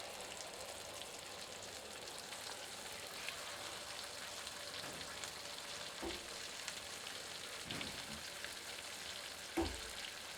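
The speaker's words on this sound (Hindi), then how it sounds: "इसे अच्छे से मिलाकर मध्यम आंच पर भूनते हैं।" Cashew-onion paste frying over medium heat in a pan, a soft continuous sizzle with a few brief ladle scrapes as it is stirred, fairly quiet throughout.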